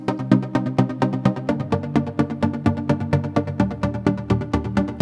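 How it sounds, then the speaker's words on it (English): A trance pluck synth patch built in Pro Tools SynthCell, played as a steady MIDI pattern of short, bright plucked notes in quick rhythmic succession, clear and upfront with no voices. "That is a trance pluck."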